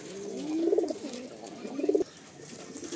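Male Fulsira Madrasi pigeons coo close by, two distinct throaty coos about a second apart over a faint background hiss.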